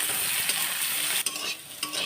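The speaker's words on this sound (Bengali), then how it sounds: "তেলের মধ্যে এখন কেটে রাখা পটলগুলো দিয়ে দিচ্ছে।" Cut pointed gourd pieces frying in hot mustard oil in a kadai, a bright continuous sizzle with a few stirring scrapes, close up and with no voices.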